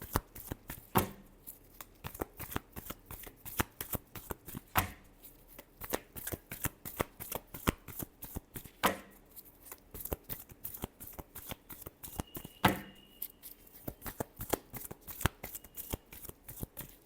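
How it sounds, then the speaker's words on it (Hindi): Tarot cards are shuffled by hand nearby. A brisk, continuous run of papery flicks and slaps repeats in quick, uneven rhythm, with occasional louder riffles and no voices. "last shuffle"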